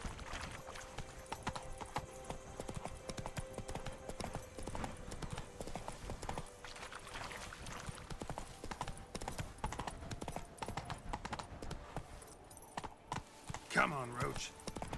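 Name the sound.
hooves of the horse Roach in the video game Witcher 3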